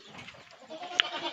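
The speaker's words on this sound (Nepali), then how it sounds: "फेरि निक्लियो बाख्रा, फेरि निक्लियो" A goat bleats once, briefly and faintly, amid soft farmyard background noise.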